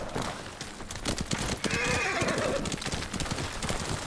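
A horse in the video game Ghost of Tsushima whinnies while its hooves clop in a quick irregular rhythm, with the neigh rising clearly over the galloping midway through.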